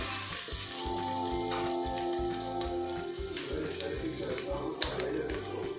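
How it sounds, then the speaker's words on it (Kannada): Red chilli and onion frying in oil for cabbage palya, a continuous soft sizzle with a low rhythmic hum and occasional stirring. "ರೆಡ್ ಚಿಲ್ಲಿ ಹಾಕೊಂಡು ಚೆನ್ನಾಗಿ ಫ್ರೈ ಮಾಡ್ಕೋಬೇಕು"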